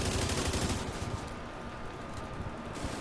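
Sustained gunfire in The Division 2 as a squad shoots the Boomer boss, dense rapid automatic bursts layered together, loud and continuous, easing slightly in the middle before picking up again.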